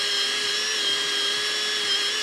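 A power drill reaming out a hole in a garage sill plate, a continuous high-pitched whine that holds steady for about two seconds, close and loud, then cuts off abruptly.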